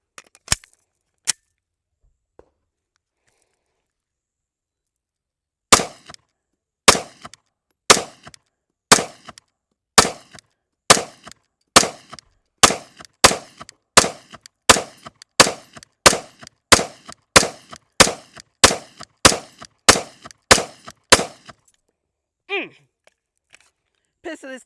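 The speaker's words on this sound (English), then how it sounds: "So we have 21 rounds of 9mm in this pistol." A Sig M18 9mm pistol fires roughly twenty sharp, loud shots in a steady, evenly spaced string outdoors, after a couple of isolated earlier cracks, then falls quiet.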